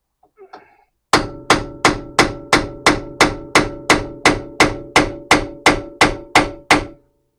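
Fourteen sharp, evenly spaced hammer blows ring out loudly on metal in a workshop while a part is tightened by feel, each strike followed by a short ringing decay; a faint voice murmurs briefly before the hammering starts.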